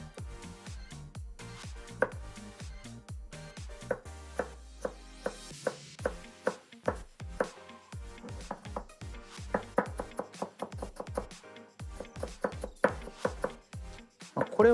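A knife chops pickles finely on a cutting board, a fast steady run of close, crisp knocks with brief pauses, ending in quicker bursts.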